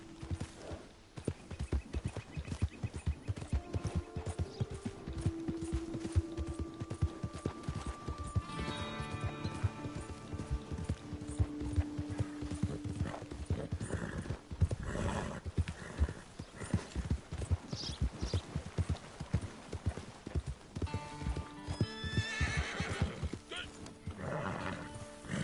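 A horse in a video game gallops with rapid, steady clip-clop hoofbeats throughout, occasionally whinnying and snorting, with the hooves close and prominent under faint background game sounds.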